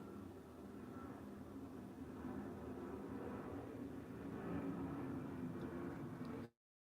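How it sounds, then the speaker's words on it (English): A loud airplane roars steadily overhead for about six seconds, a broad low rumble that swells slightly toward the end before cutting off abruptly, with no talking. "plane's loud."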